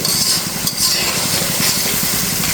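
Spice paste cooks in oil in a pan, a steady close sizzle running throughout with faint stirring scrapes, loud and without talk.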